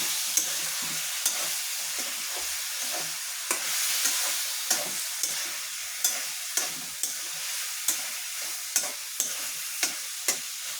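Beef liver fries in a pan with ground cumin paste, a continuous sizzle broken by regular sharp scrapes and knocks of a spoon stirring against the pan, with no talking.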